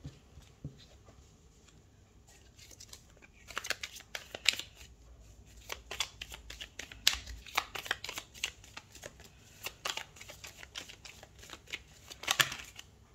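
Tarot cards shuffled and drawn, soft rapid riffling and flicking bursts, fairly faint and close, building in the middle and recurring toward the end with no talk.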